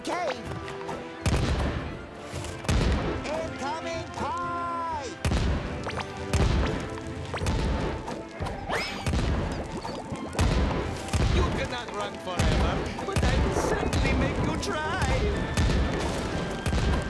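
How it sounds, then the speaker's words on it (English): Cannons fire in the video game SpongeBob SquarePants: The Cosmic Shake, with loud repeated booming blasts in an irregular rhythm over busy game music and effects. "Let me show you how a real pirate uses these cannons."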